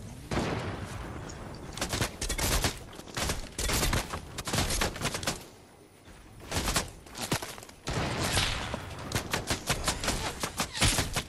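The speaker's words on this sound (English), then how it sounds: "someone's shooting at me from behind" Sustained bursts of gunfire in a shooter video game, rapid automatic volleys near and loud with brief lulls between, dense and continuous across the stretch.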